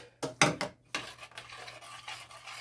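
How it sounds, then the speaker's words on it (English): A spoon stirs a thick peanut and oats porridge mixture in a pot, scraping in a few close, uneven strokes with soft rubbing between them, no talk. "So I'm just going to mix in all of that right now."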